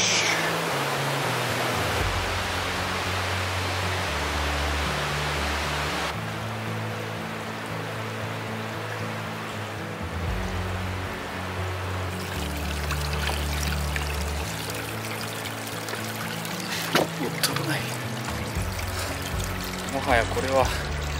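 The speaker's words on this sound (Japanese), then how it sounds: "川、小川を上がっていっております。" A shallow mountain stream runs across a rough road in Eglinton Valley, New Zealand, making a steady rushing, pouring wash throughout. Occasional bumps and knocks break through near the end, and faint voices may be present.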